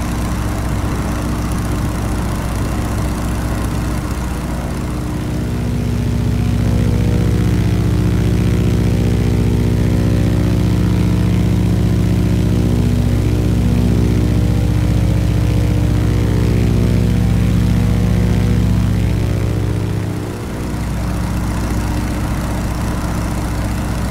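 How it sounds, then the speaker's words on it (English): The radial engine of a PT17 Stearman biplane in Microsoft Flight Simulator drones loudly and steadily, its pitch shifting slightly as power changes and briefly dipping near the end. "now that the speed's built up and we come back on the engine power"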